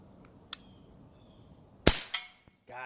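Shots from an Umarex Glock 19 .177 BB gun, a few sharp snapping pops spaced apart, the loudest two close together near the end, fairly close in a quiet setting.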